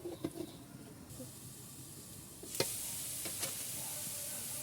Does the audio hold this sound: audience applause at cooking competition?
no